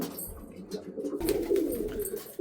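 Domestic pigeons cooing nearby in a loft, a low rolling coo repeating through the moment with soft rustling behind it.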